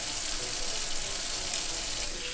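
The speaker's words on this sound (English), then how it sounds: "Let me wash my hands." Hot water runs steadily from a tap into a sink while hands are washed, a continuous bright hiss of flowing water at close range with no talking.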